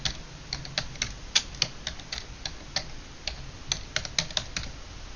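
Typing on a computer keyboard, a quick run of crisp, close key clicks in uneven bursts with short pauses, alone against a quiet room.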